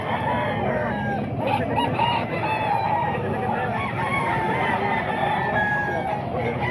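A young gamecock stag crows among other fowl, drawn-out crows overlapping with clucking in a loud, continuous farmyard chorus.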